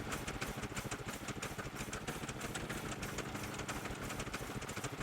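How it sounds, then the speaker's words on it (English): A small vehicle engine in the video game Scrap Mechanic runs at a quick, even chugging idle, its rapid pulses steady and moderately quiet throughout, with no voices. "I love the little engine sound."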